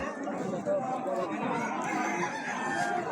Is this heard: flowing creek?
no